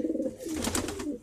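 Domestic pigeons coo close by, a soft low throaty rolling call lasting about a second, alone and fairly quiet.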